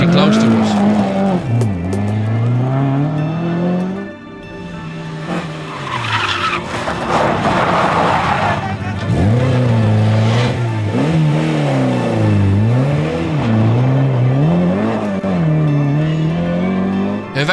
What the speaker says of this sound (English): cars were almost losing control and getting pretty close to us